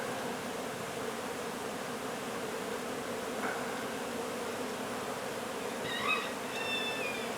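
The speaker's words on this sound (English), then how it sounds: "So we got a cloud of bees." A cloud of bees buzzes around an opened hive at a double-wide home, a steady dense hum with a few individual bees whining past close by near the end.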